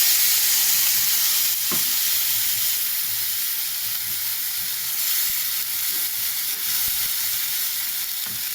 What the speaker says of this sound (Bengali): তো কালো জিরে ফোড়ন দেওয়া হলো। তো এখানে টমেটো, সাদা সর্ষে, জিরে, কাঁচা লঙ্কা পেস্ট করা হয়েছে